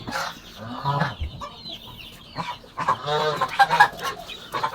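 Cajun Lemon geese with goslings in a small backyard pen, giving scattered honks and clucking calls near and moderately loud, with a few bursts of overlapping calls among farm fowl.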